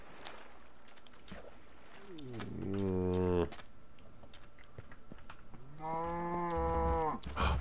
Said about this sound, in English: what we want to do is we want to go feed the moo-moos